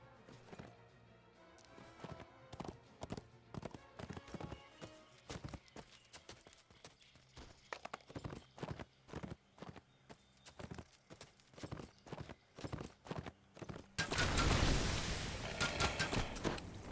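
Horse hooves clip-clop steadily in a fantasy video game, a quick rhythmic trot of sharp knocks close up, ending in a burst of loud rushing noise.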